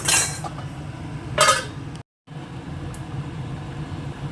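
A lid set down over a cooking pot of meat and potatoes: two bright metallic clinks about a second apart, then a brief dead silence and a faint later tick over a low kitchen hum.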